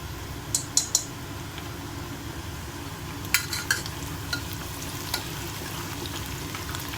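Spices and ginger-garlic paste frying in a pan for a tamarind drumstick curry, with a quiet steady sizzle and a few sharp clicks of a spoon against the pan.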